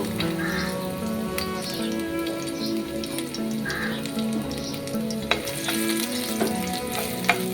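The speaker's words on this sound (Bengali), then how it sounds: "তেল গরম হয়ে গেছে, এর মধ্যে আমি দিচ্ছি রসুন থেতো" Crushed garlic sizzles and crackles in hot mustard oil in a wok, a steady close frying hiss with occasional sharper pops and stirring clinks, and no one speaking.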